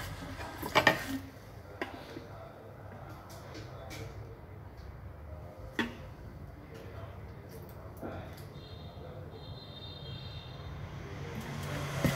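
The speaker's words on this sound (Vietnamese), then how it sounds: "các bạn cho tất cả nguyên liệu vào trong máy xay, chúng ta xay." A kitchen blender whirring through blueberry smoothie ingredients, a faint, steady motor hum that runs throughout under a speaking voice, with a few light knocks.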